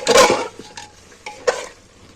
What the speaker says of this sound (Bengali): এবার সব মশলাগুলো দিয়ে এবার আমি নাড়াচাড়া